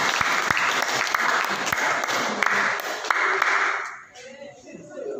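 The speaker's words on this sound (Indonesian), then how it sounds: "Aplaus untuk kelompok 4" Schoolchildren in a classroom clap for the fourth group, a dense burst of applause that fades out after about four seconds, with voices mixed in.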